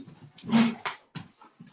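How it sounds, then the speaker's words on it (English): Dogs indoors whimper and pant in short, close bursts, with a brief whine rising through the middle. "my dogs are being naughty"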